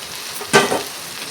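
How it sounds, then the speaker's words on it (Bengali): Fish and fried potatoes drop into sizzling spiced masala in a pan, a single sharp burst of frying hiss that quickly settles back to a low sizzle. "তো এখন আমি মাছ আর আলু ভাজাটা একসঙ্গে দিয়ে দেব।"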